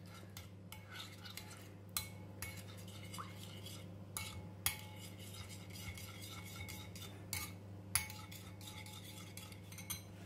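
A spoon scrapes and clinks against a bowl while stirring tomato paste with hot water for a sauce, several sharp ticks and light scraping strokes over a steady low hum, close and fairly quiet.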